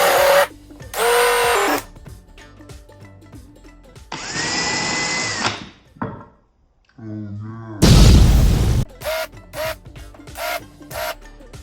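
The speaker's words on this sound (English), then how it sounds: "But first, we must pre-drill." A power drill pre-drilling holes in exotic wood for attaching table legs, several short bursts of whirring with pauses between them and a louder grinding burst near the end, close up, without talk.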